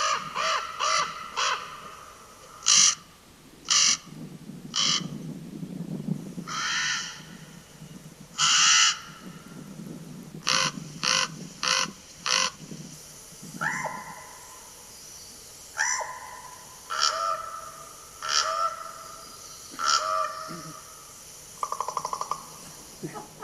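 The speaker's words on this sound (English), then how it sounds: "I want to play for you the raven that I mentioned" Recorded raven calls play back as a series of deep, hoarse croaks and caws, spaced irregularly with brief gaps, some clustered in quick bursts, heard fairly close against a quiet background with low murmuring between calls.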